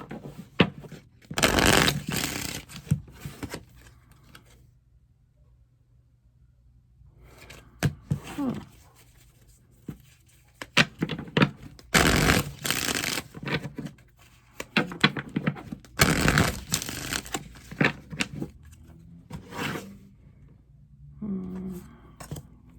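Tarot cards are shuffled in several short, brisk bursts of riffling and slapping, close and fairly loud, with quieter handling in between and no talk heard.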